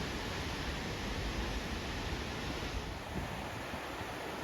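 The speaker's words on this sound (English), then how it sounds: "with tons of water gushing down constantly" Constant broadband roar of rushing water, dense and unbroken, from a powerful waterfall in southern Iceland heard from nearby.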